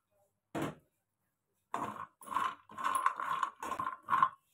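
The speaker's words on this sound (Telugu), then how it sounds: "ఇప్పుడు మనం వాల్నట్స్ వేసుకుందాం." Walnuts being added to a kadai and roasted for dry fruit laddu: a first rattle as they go in, then a run of rhythmic scraping stirs, close and moderately quiet.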